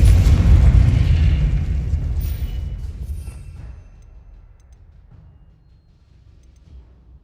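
A deep, rumbling blast from the Confringo explosive spell in Hogwarts Legacy on Xbox Series X, loud at first and then slowly fading into a low, lingering rumble with no talk.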